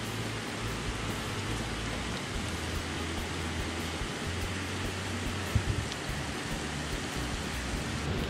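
Heavy morning rain pours down in Nicaragua near a parked camper, with runoff gathering into a small stream: a steady, dense broadband hiss of rainfall continues throughout, with no voices.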